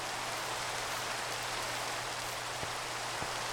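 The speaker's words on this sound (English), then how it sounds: "This rain has to stop." Steady rain in the Minecraft video game, a dense even hiss of falling water with a low hum underneath and a couple of faint clicks, no talking.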